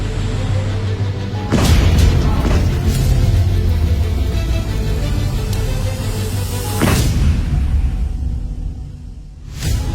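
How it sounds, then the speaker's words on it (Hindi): Artillery, including long-range, medium and field guns, fires alongside infantry weapons in extended punishment fire; loud booms and blasts sound over a continuous rumbling background, with distinct heavy bursts near the start and another later. "उस पर साइमल्टेनियसली हमने artillery long range, medium, field guns और इन्फेंट्री के हथियारों पे पनिशमेंट फायर एग्जीक्यूट किया"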